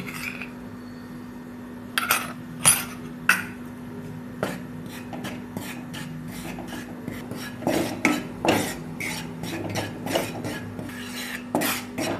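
Sorghum flour dry-roasts in a hot kadhai, a metal spoon scraping and clinking against the pan in irregular strokes over a faint steady hum, close and without talk.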